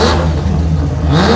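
A Pro Turbo drag racing car at the 2024 Garrett Brisbane Jamboree gives a loud, continuous engine roar that rises in pitch as it accelerates, heard alone at close range.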